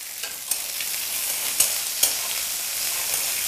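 Onions fry in a pan for a small-shrimp dish, a loud continuous sizzle with three or four brief stirring knocks against the pan.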